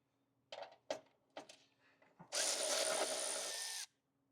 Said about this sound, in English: then we're going to mark it and then drill it